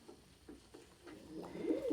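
A pigeon coos softly at close range in a few low, breathy pulses that grow a little louder toward the end, with no talking over them.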